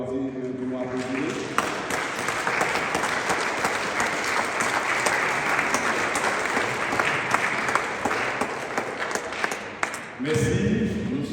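A congregation at a priest's ordination anniversary celebration breaks into sustained, dense applause lasting several seconds, loud and close, before it cuts off and a voice speaks at the end.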